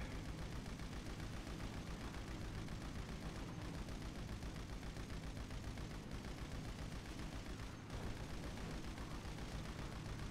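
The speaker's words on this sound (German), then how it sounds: "Das Gute ist immer auf die Rotoren schießen." Gunfire aimed at the rotors of a Cargobob helicopter in GTA V, a steady stream of rapid shots over a constant loud drone, with a few brief dips and hits.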